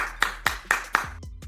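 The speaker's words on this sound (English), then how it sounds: "Would you clap yourselves?" Sharp handclaps in an even rhythm, four crisp claps at about quarter-second intervals followed by a couple of softer ones, close and distinct.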